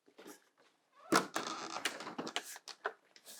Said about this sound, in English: so I should probably close this door